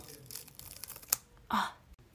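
Special effects makeup being ripped away from the skin, a short sharp tearing burst near the middle followed by a louder, longer rip, close and alone with faint rustling around it.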